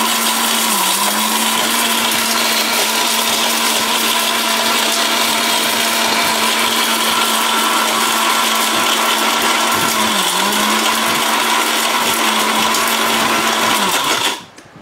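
An electric blender grinds turmeric into powder with a loud, steady whir that runs continuously for about fourteen seconds, dipping briefly twice before cutting off abruptly at the end.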